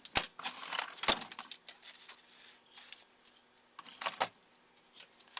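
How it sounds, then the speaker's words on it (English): X-Acto knife scoring fold lines on a paper ballista model, a quiet series of sharp little ticks and scratchy strokes in irregular bursts with short pauses, close up and without talk. "So let's go ahead and score this thing."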